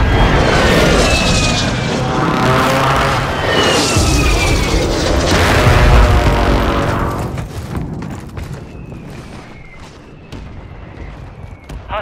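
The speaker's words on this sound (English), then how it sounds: "Friendly mortar strike inbound." Mortar strikes explode in a Call of Duty match on Rebirth Island, with loud, rolling booms that overlap for several seconds before fading into scattered crackling impacts.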